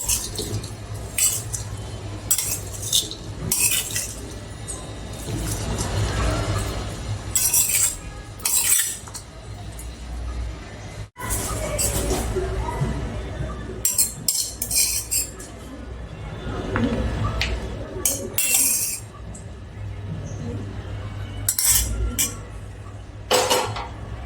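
A spoon stirs boiled peanut vegetable chaat (a fasting-style faral chaat with chaat masala) in a bowl: steady clinks and soft squishy scrapes repeat for over twenty seconds, close up, with no one talking.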